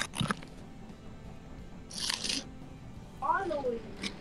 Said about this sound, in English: I've just been munching on chips for like 10 minutes.